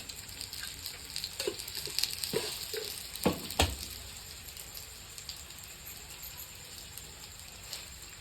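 Sweet potato slices cooking in ghee in a pan make a faint, continuous crackling sizzle with a few sharper pops early on, heard close and alone.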